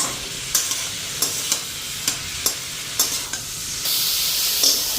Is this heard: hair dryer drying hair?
no